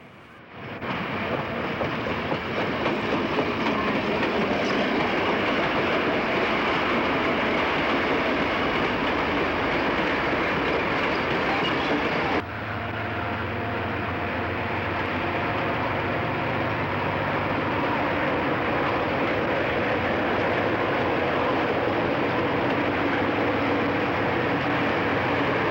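A Conrail GP40 diesel locomotive, ex-Penn Central unit 3105, passes close by, its engine rumble and rolling rail noise loud and steady for the whole stretch, with a sudden shift in tone partway through as the train moves past.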